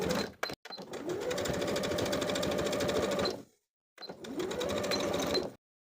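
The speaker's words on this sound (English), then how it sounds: "from the right side of the garment, we're going to top stitch in place, catching the finished edge" A sewing machine top-stitches a seam on athletic shorts from the right side, catching the finished edge: a steady, fast stitching whir runs for about three seconds, stops briefly, then starts again for a second, shorter run.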